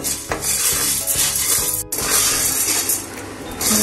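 Sago pearls dry-roast over a low flame, a dense rattling scrape of grains and spoon stirred against the pan, close and continuous with brief knocks, no speech.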